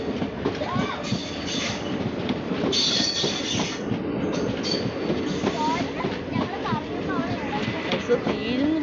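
A train passes close by in Karnataka, its wheels rumbling and clattering steadily across the rails with occasional squeals, loud and continuous, while people talk nearby.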